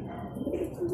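Racing pigeons coo softly in a low, continuous murmur, close by and unbroken, with no voices over them.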